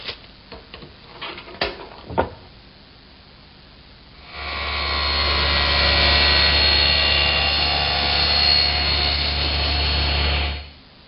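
A power saw cross-cuts a wooden piece to length on a workbench, preceded by a few clunks of handling the wood, then a loud steady whine for about six seconds before it cuts off.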